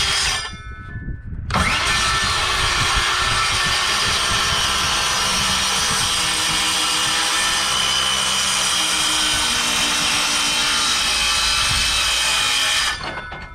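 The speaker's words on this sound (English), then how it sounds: "Take your skill saw." A Skilsaw circular saw whines up and cuts through a 2x6 wood board along a marked line, a loud sustained high-pitched buzzing rip lasting over ten seconds before spinning down, with no talk over it.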